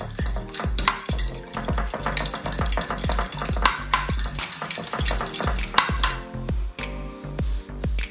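Fly squid batter being mixed by hand in a bowl, giving a rapid run of wet slaps and knocks against the bowl, close and fairly loud, with no talk.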